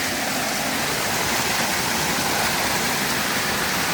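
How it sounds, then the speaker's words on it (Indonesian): The Curug Cipadaranten waterfall roars loudly and constantly, a dense, even wash of rushing water that fills the whole stretch without pause or talking. "Di sini udah kelihatan tuh curugnya."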